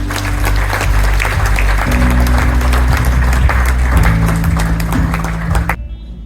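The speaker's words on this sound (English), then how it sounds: "A round of applause, ladies and gentlemen." Loud, sustained applause fills an awards ceremony hall, layered over droning music held underneath, then cuts off sharply near the end.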